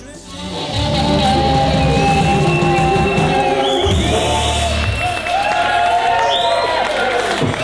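A loud jazz and blues festival crowd in Congleton cheers, whistles and applauds, with shouts and whoops rising over dense clapping that carries on without pause.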